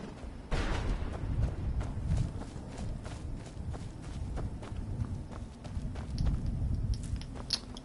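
Horse hooves in Skyrim, a steady clip-clop of galloping steps thudding along with a faint background hum, moderately loud and continuous for several seconds, no talk.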